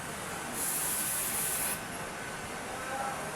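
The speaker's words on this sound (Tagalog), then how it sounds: "So bugahan pa natin ulit ng cleaner para pumantay na po yung spray ng fuel injector sa nozzle tip." Cleaner spraying through a Honda RS125 motorcycle fuel injector nozzle, a steady close hiss lasting about a second over a quiet background.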